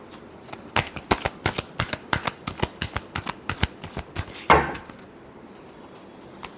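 A deck of tarot cards is shuffled by hand in a quick run of crisp rhythmic riffling snaps, ending in a final fuller flutter before falling quiet.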